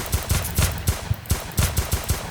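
Gunfire in the Roblox game Deadly Heist: a rapid, evenly spaced stream of loud automatic shots, close and continuous, with no talking.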